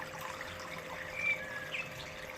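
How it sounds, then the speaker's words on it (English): Water spills slowly into the centre funnel of a prospecting concentrator during a gold prospecting trip, a faint, steady trickle and dribble throughout with no voices. "The water's slowly starting to spill into the centre funnel."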